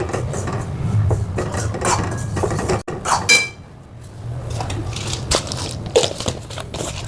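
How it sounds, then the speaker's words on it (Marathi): Semolina roasting in ghee in a pan for shira, giving a steady dry scraping and crunching as it is stirred, with a few sharper knocks of utensil against pot, fairly close and with no talk. "तुपात आपला जो रवा आहे तो भाजून घेणार आहे."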